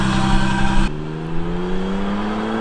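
An Isuzu VehiCROSS under rebuild roars past in a flyby, its engine loud and close before the pitch drops abruptly as it goes by, then a steady fading drone trails off.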